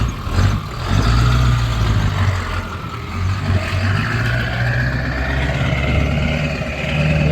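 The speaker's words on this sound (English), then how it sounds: "The exhaust sounds nice." An old OBS Ford truck with a 7.3 Powerstroke diesel rumbles steadily through its exhaust, with a loud, continuous low-pitched engine drone and slight swells as it creeps along, close by.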